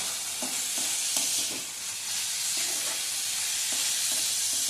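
Onion sautéing and being stirred in a pan for a Marathi stuffed brinjal dish, a steady sizzle with repeated soft scrapes of the spoon, close and continuous with no talk.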